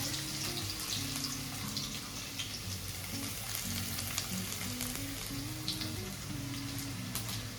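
Finely chopped garlic fries in hot oil for a prawn chilli dish, a steady close sizzle and crackle running without a break, with faint clinks over it.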